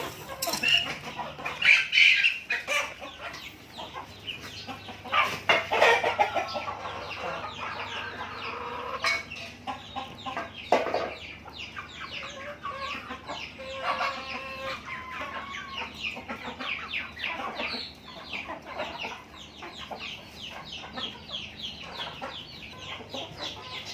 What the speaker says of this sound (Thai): เดี๋ยววันนี้ผมจะให้อาหารไก่นะครับ